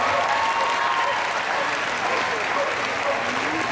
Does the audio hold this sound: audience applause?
yes